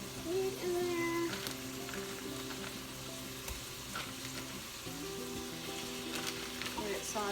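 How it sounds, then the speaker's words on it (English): Meat sautéing in a pan with onion and butter for a low-carb beef stew, a continuous crackling sizzle with occasional stirring clatters, close and steady, with a faint tonal hum underneath and no talking. "Get it sauteing, onion and butter."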